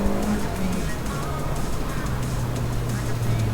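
A Mazda MX-5 race car spins out at turn 10 on a road course, its engine roaring loudly and close alongside a sustained tire squeal and skid, with no talking.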